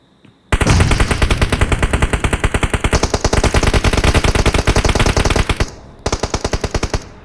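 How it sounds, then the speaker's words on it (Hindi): Rapid automatic gunfire from PUBG Mobile, loud and close, with long sustained bursts of tightly spaced shots, a brief pause near the end, then another short burst. "क्रोनस ने कवर फायर दिया है।"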